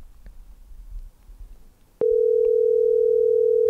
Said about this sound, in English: You could hear the ringing?